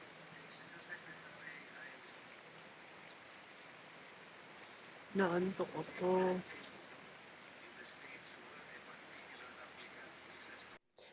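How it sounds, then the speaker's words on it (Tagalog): Heavy rain falls in a steady, soft, continuous hiss over the whole stretch, while a voice speaks a few brief words near the middle. "Lumakas na ang ulan."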